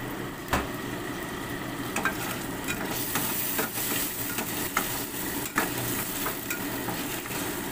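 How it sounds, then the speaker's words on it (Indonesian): Shallots and garlic sauté in hot oil, a steady close sizzle broken by repeated scrapes and taps of a utensil stirring in the pan. "Saya sudah panaskan minyak. Tumis bawang merah, bawang putihnya."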